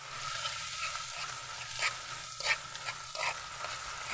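Corned beef and eggs are stirred in a pan, quiet scraping and sizzling with a few louder utensil knocks against the pan.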